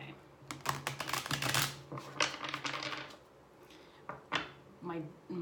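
Tarot cards riffle and slap together in quick close bursts, a deck being shuffled a few times, with brief pauses between shuffles.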